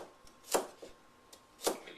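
Knife cutting carrots into half-inch pieces on a cutting board, producing a few sharp, separate chops spaced irregularly, close and fairly quiet, with no talk.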